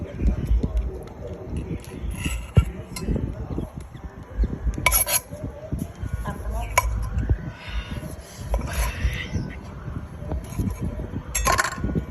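Papaya salad (som tam) is pounded in a large mortar with repeated dull thuds and clinks. The pounding goes on steadily under ongoing Thai conversation.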